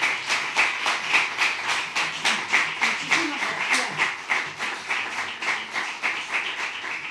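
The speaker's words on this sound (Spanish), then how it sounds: "Recibamos con un fuerte aplauso en reconocimiento a su trayectoria ejemplar" Rhythmic applause from an audience at the Slow con Flow awards ceremony at a rural hotel, the crowd clapping in unison in a steady, evenly spaced beat that stays loud and regular throughout.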